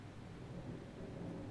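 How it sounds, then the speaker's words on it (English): Thunder rumbles as a steady, low, broadband roar during a rainstorm, faint and continuous with rain noise and no speech. "You just don't like the thunder."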